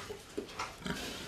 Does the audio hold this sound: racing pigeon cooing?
no